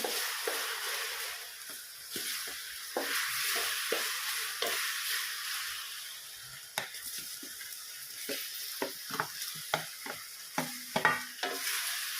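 Banana pieces fry in caramelized sugar in a pan, a quiet, steady sizzle broken by repeated scraping and clicking strokes of a stirring utensil.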